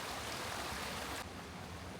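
River water flows steadily during a winter crossing on the Fagnes moorland, a continuous broadband rush that drops slightly in level partway through, with no voices.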